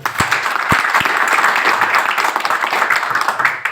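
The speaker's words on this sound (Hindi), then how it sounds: "एक बार तालियां हो जाए" Loud, dense audience applause at a business gathering, sustained clapping from a crowd with a few sharp close claps near the start, no talk over it.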